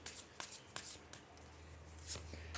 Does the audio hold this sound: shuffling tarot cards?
yes